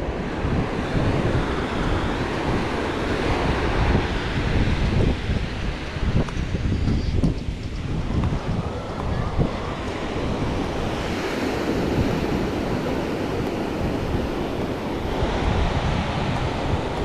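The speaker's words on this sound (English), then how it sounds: "Nice sea breeze on the beach at Fanabe." Waves roll in on the beach at Fanabe, Tenerife, with a sea breeze buffeting the microphone. The surf and wind make a loud, continuous roar throughout, and no one speaks.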